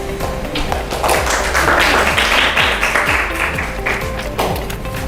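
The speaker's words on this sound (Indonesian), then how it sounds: "tepuk tangan dulu untuk kelompoknya Alif." A classroom group gives steady, dense applause for a student group, close and loud throughout, with a few people's voices mixed faintly into the clapping.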